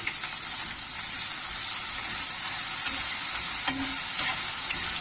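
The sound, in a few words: potatoes frying in hot oil in a pan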